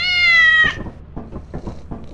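A cat meows in the video game Lethal Company, one loud drawn-out meow up close, followed by quieter clattering, thumping game noises.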